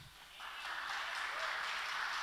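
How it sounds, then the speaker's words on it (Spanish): Church congregation applauding during a Spanish-language worship service, a steady broad wash of many hands clapping that builds after a quiet start and holds at an even, moderately distant level with no talking over it. "Ese aplauso es para nuestro Padre, así que hazlo con más fuerza"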